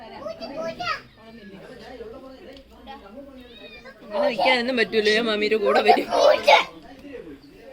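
A voice and playful chatter, then a burst of loud, strained meowing and yowling from a frightened cat fleeing, close by, mixed with the kid's excited sounds.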